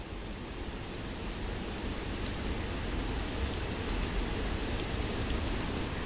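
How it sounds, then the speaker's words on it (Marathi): Heavy monsoon rain pours down during flooding in Anjanvel on the Konkan coast, a dense, even roar of broadband hiss that holds steady throughout, with no voices over it. "अंजनवेलमध्ये सुद्धा काल रात्रीपासून मुसळधार पाऊस पडतोय"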